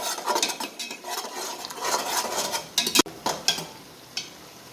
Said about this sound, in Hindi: लहसुन अदरक जो है वो प्याज के साथ अच्छा सा फ्राई हो गया।